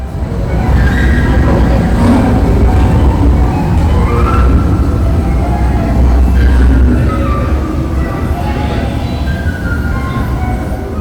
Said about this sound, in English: let's hop aboard and see where this magic train takes us